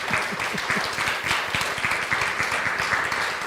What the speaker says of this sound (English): Let's give him yet another round of applause.